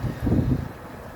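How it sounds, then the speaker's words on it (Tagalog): A brief low rumbling buffet of wind hitting the microphone at an outdoor fashion photoshoot, loud for a moment and then easing off. "Yan kasi mahangin."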